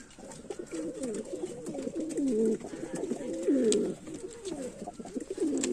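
Domestic pigeons at a house coo steadily nearby, a continuous overlapping murmur of low, throaty rolling calls with no pauses.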